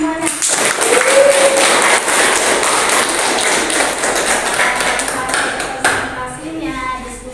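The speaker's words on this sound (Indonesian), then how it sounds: "kita beri tepuk tangan semuanya" A classroom of students claps in a loud, brisk burst of individual taps that thins and tails off after several seconds, with a brief voice at the start and near the end.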